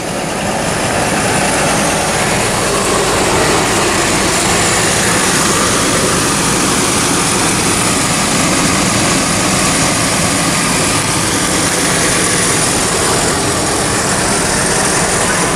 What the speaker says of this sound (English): This is my car running.